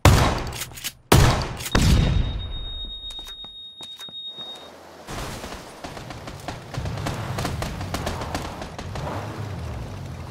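Gunshots in PlayerUnknown's Battlegrounds ring out as a few loud, sharp cracks, then sparser, more distant pops and rattles over outdoor game ambience, with a thin electronic beep partway through.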